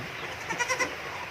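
A newborn goat kid bleats in a quick run of three short, nasal calls close by, set against a steady background hiss with no talking.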